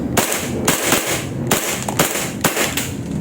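ARMY ARMAMENT R615 Sand Viper airsoft rifle firing five sharp, loud shots at roughly even intervals, each a crisp close crack with a brief tail.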